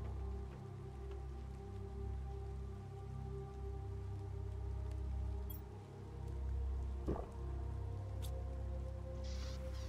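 Rain falls steadily in the video game Planet Crafter, a faint, even patter of drops that stays quiet and unbroken throughout with no voices.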